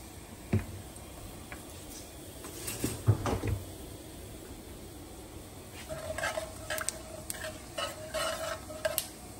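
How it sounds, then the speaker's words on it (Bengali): Cumin seeds tempering in hot oil in a wok, giving a soft, steady sizzle with scattered crackles and several sharp clinks and ticks, fairly close and quiet, with no one speaking. "কড়াইতে তেল দিয়ে দিয়েছে, এখন তেল গরম হচ্ছে। দিয়েছে জিরা ফোড়ন"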